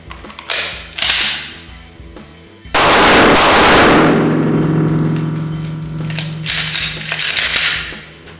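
Loud gunfire at an outdoor shooting range: a few sharp bursts early on, then a heavy blast around three seconds that rings out and decays slowly, followed by further clattering shots and mechanical clicks.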